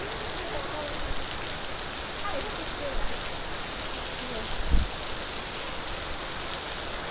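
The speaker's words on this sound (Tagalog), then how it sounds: "ang lakas-lakas ng ulan" Heavy rain pours steadily outdoors in Singapore, a dense, constant hiss of downpour close by with a brief thump partway through and no talk.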